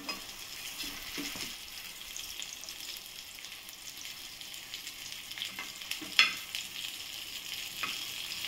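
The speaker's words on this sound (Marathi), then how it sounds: "आता ना मच्छी फ्राय करते." Bangda mackerel fish fry in a pan in a Konkan village kitchen, giving a faint, steady sizzle with a few soft clicks and one sharper tap partway through.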